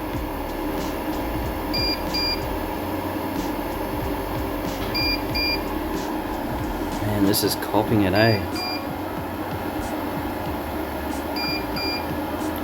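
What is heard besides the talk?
Kings 3000W inverter beeping under heavy load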